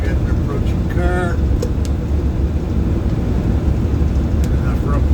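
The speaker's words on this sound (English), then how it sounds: "I got an approaching car" A car approaching on the road passes with a rising broad engine and tyre roar over steady loud wind and vehicle noise, alone without talk.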